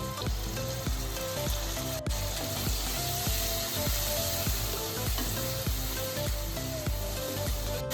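Steady, close sizzling and crackling of spices in a hot pan as water is added, with a rhythmic scraping of stirring repeating about every half second throughout.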